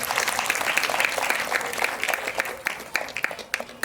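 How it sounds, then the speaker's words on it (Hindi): A crowd applauds steadily at a Tulsi Pujan devotional event, a dense wash of clapping that holds for a few seconds and tapers slightly at the end. "एक बार जोरदार तालियां"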